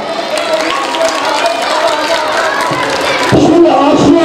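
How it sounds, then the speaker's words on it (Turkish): A school audience of children at a primary school event breaks into clapping and cheering, a dense, loud crowd sound that holds steady for several seconds and swells slightly near the end. "Bir alkışlar mı hemen?"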